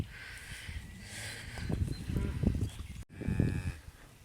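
A cattle herd of heifers and cows gathered together on a farm before being moved, with low lowing and shuffling nearby, a brief break, then more herd noise continuing.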